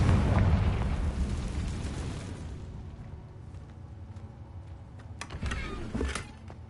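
A Confringo blasting spell explodes in Hogwarts Legacy with a loud, broad boom at the start that slowly decays into rumble, followed by a few crackling pops near the end.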